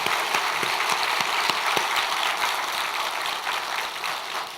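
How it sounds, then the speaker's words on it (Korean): A church congregation at a New Year's Eve blessing prayer service applauds steadily, a dense wash of many hands clapping at even loudness throughout, with no voices over it. "그분들에게 뜨거운 박수 부탁합니다"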